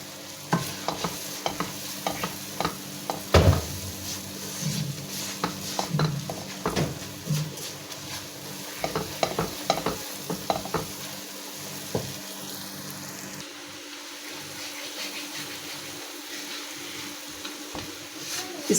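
Semolina halwa roasting in a pan as milk is added bit by bit, with repeated scraping stir strokes and a soft sizzle running underneath, fairly close and steady for most of the stretch before easing off.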